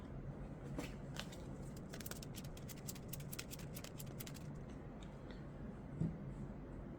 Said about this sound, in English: We're gonna have to shuffle in an aging card though.